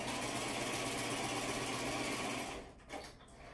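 A sewing machine runs in a fast, continuous stitching whir for a few seconds, then stops with a couple of soft clicks.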